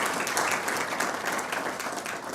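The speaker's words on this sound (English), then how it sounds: "I think we need to give them a round of applause" A crowd claps in a sustained round of applause at a formal address by Zambia's president marking the nation's 60th anniversary, steady and dense throughout with no speech over it.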